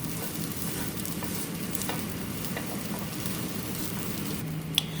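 Onions sautéing in a frying pan, a continuous close sizzle with repeated stirring scrapes and clinks throughout and one sharp metallic tick near the end; nobody speaks.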